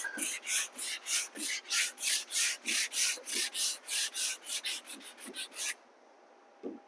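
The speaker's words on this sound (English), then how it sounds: "See, I'm not putting any pressure on letting the sandpaper do all the work." Hand sanding with sandpaper on a mud-coated flat surface, light pressure, about twenty quick rhythmic rasping strokes in steady succession that speed up near the end before stopping, close and clear with no talking.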